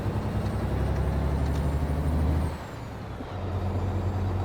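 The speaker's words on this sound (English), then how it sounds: "There's a Peterbilt coming" A Peterbilt truck passes in American Truck Simulator, with a loud, steady diesel engine drone that dips briefly and then swells again, no talking over it.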